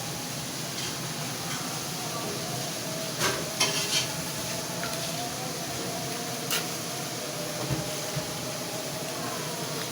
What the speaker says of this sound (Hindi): इसको भी हम ज़रा साथ ही भून लेंगे। थोड़ी सी आग में, तेज़ आग करके।